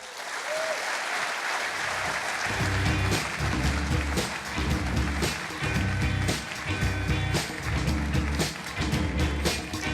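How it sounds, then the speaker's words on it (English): Graduation audience applauding at a recording arts ceremony, a dense sustained wash of clapping from a large crowd that swells in after a quiet start and carries on loud and steady to the end, with low rhythmic thumps beneath. "You guys can give Elliott another round of applause."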